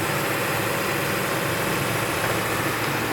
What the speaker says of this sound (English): It's like the engine is almost like giving out and like kind of dying.